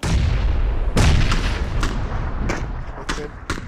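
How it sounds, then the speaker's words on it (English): Heavy booming cannon shots in PlayerUnknown's Battlegrounds, several loud blasts spaced irregularly over a dense, rumbling background of battle noise. "He's lethal with that cannon"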